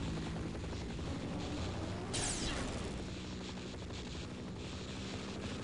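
Helicopter in the Half-Life: Opposing Force video game, a steady loud rotor and engine drone filling the whole stretch, with a brief sweeping swell near the middle.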